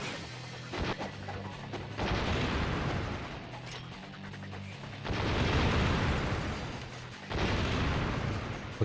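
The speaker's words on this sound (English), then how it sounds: "He's now going to follow up with missiles." A boss fires a barrage of missiles in Ninja Gaiden Sigma, and the explosions come as heavy, rumbling blasts in several waves, each loud burst followed by a quieter stretch.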